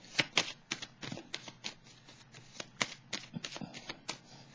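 Tarot cards riffle and slap as they are shuffled and straightened, a run of quick crisp papery bursts close by, with no one talking.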